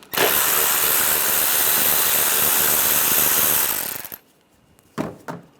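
A power tool with a 10mm socket backs bolts out of the airbox on a 2009-2013 BMW 328i xDrive 3.0L L6, whirring loud and steady for about four seconds, then stopping before two short bursts.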